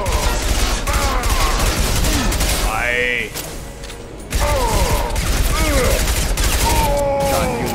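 Rapid shotgun blasts and other weapon fire in a firefight against Krogan in the video game Mass Effect 2, loud and repeated, mixed with mechanical clatter and game voices, with a brief lull partway through.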